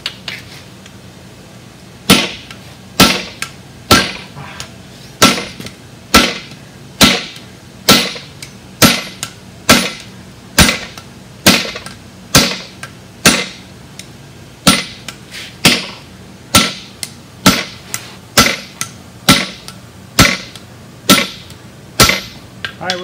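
A blacksmith's hammer strikes a flatter on hot steel while forging a hook, ringing metallic blows landing in a steady, evenly spaced rhythm, loud and close, roughly one per second for the whole stretch.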